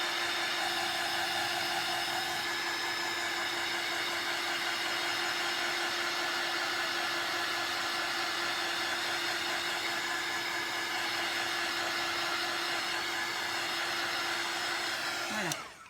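A hair dryer blows on a handmade card, a steady, loud, close whooshing hum with a constant tone running unbroken for about fifteen seconds before switching off abruptly at the end.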